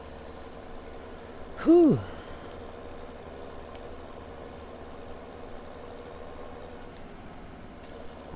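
A tractor engine idles steadily in Farming Simulator 17 (LS 17), a low continuous hum throughout, with a brief exclamation near the start.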